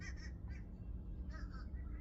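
Ducks or similar fowl quacking outdoors, a few short bursts of calls at moderate distance over a steady low background rumble.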